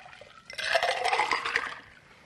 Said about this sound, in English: Instead of shaking this, because it has carbonation in it, we are going to just pour it in